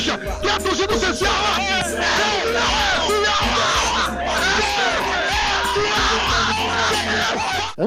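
CSA football supporters cheer and yell together in a loud, dense crowd, voices chanting and shouting continuously close by.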